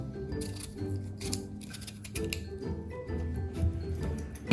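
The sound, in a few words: peeling potatoes for potato wedges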